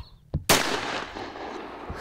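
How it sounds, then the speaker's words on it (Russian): Loud bangs like firecrackers or shots set off to drive away evil spirits on the night the dead visit the living: a small pop, then a sharp near blast that rings out into a long decaying rumble, with another faint thud near the end. "Хлопки и выстрелы способны отогнать их."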